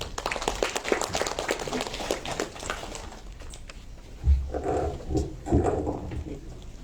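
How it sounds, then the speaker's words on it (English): Audience applause at a Goa University students council installation ceremony, a dense burst of clapping that fades, followed by a few booming, muffled thuds. "Please welcome him with a round of applause"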